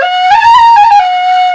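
A flageolet whistle sounds one clear, steady, loud note that rises slightly and then holds, close and alone for under two seconds.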